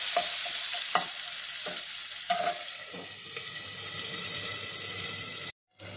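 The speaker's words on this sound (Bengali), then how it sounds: "পেঁয়াজটা লাল করে ভেজে নেব।" Chopped onion fries in hot oil with a dense, continuous sizzle and a few scraping stirs, then cuts out briefly near the end.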